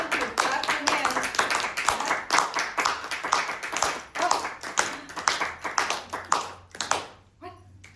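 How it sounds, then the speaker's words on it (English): An audience claps along at a live stage show, with steady rhythmic hand claps throughout and voices over them, then the clapping breaks off near the end. "Clap your hands."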